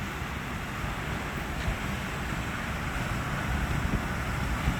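Steady broadband rush of water flowing at a dam with gusts of wind buffeting the microphone, continuous and fairly loud throughout, no voices.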